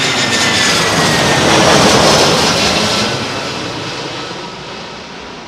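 Jet airliner on approach to Heathrow Airport on a windy day, a loud broad roar that swells and then slowly fades as the plane passes, with wind rumble underneath and no voices.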